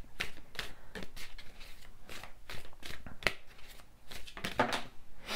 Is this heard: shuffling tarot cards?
yes